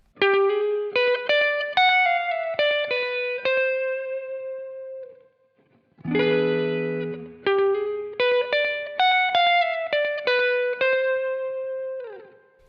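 Electric guitar plays a slow blues lick of picked and bent single notes with a driven tone, pausing briefly before a low chord and a second phrase.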